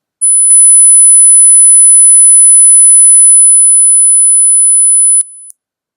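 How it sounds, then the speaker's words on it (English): A steady 10 kHz sine test tone rings pure and loud for about five seconds, joined briefly by faint extra tones near the start, then cuts off abruptly. "So I've produced a 10 kilohertz signal, which I can hear on my computer."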